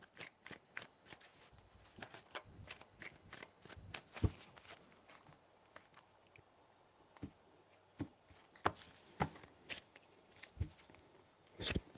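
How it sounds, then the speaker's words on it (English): Tarot cards are handled and shuffled quietly, producing faint, irregular snaps, flicks and taps spread throughout, with no speech. "Three shuffles."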